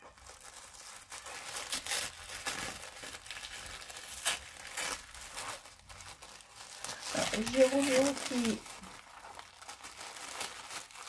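Tissue paper crinkles and rustles as a parcel wrapped in bubble wrap and orange paper is unwrapped indoors, in soft bursts with a louder crumple near the end, while someone speaks French.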